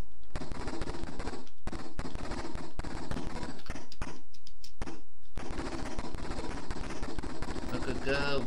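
Rapid machine-gun fire from the Amstrad CPC464 game Operation Hanoi, dense crackling bursts of shots nearly continuous and loud, broken by a couple of brief gaps.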